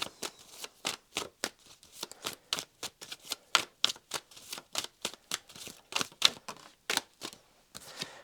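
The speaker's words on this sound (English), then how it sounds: "I'm just throwing the cards everywhere" Tarot cards shuffled and handled, a quick continuous series of close, crisp slaps and riffles at a steady brisk rhythm, quiet overall with no voice.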